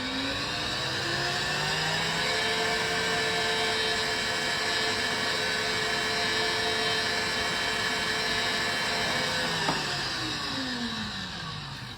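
An electric mixer whips egg whites for a sugar-free pavlova, giving a steady, loud motor whir that holds a continuous pitch throughout and eases slightly at the end.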